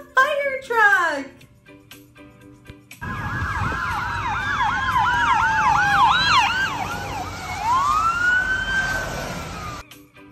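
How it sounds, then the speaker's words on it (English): A loud wailing fire truck siren sweeps up and down repeatedly, then shifts to a longer slow wail, after a brief voice at the start. "Did you hear that? That was so loud. That's because the fire truck is an emergency vehicle."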